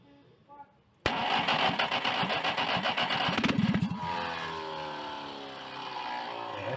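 A small engine is started with the choke partly closed by hand, catching abruptly into a loud, rough, sputtering run that steadies at a fast idle, with a voice audible underneath.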